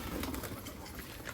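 Pigeons coo softly in a short, faint stretch of low murmuring calls against background noise.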